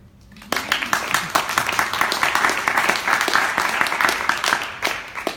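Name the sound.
audience round of applause at a panel event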